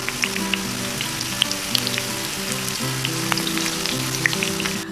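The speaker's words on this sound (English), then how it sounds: "place your rolled up tacos into the frying pan" Rolled tacos dorados frying in oil in a pan, a steady dense sizzle and crackle with scattered pops, loud and close, with no talking.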